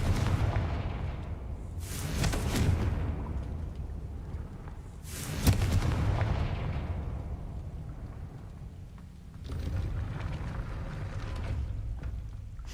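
Confringo blasting spell explosions in a Harry Potter video game, three heavy booming blasts spaced a few seconds apart, each with a long rumbling decay over a low background.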